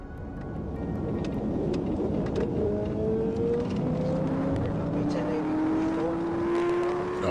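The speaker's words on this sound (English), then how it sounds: "the suspect hit the throttle and took off" A high-performance motorcycle speeds away during a nighttime police chase through Clayton County, its engine whine climbing steadily in pitch as it accelerates, heard at a distance beneath a loud rushing background, with a voice talking over it.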